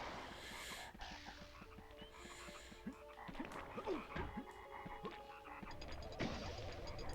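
Toads croak repeatedly in the MediEvil PS1 video game, a steady series of low croaks over a dense, murky game ambience with no talking.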